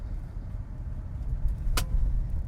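A 2026 Volvo XC90 driving in hybrid mode on Michelin tires, heard from inside the cabin as a steady low road and engine rumble, with one brief sharp click partway through.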